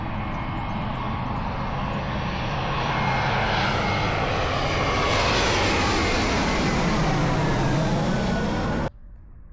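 A low-flying airplane near Barcelona airport roars loud and close, a broad steady engine rumble that swells over about nine seconds and then cuts off sharply, with no talk.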